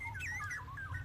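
A straw-headed bulbul, or cucak rowo, gives a quick run of bright, warbling chirps, close and clear over a low background hum.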